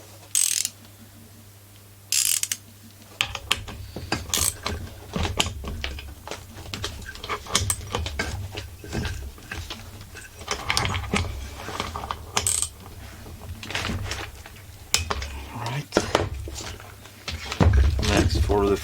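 Ratchet wrench with a 15mm socket fitting the drum clutch on a Husqvarna 44 chainsaw, turned counterclockwise, giving repeated clicking ratchet strokes and metallic clinks up close, with a person talking between them.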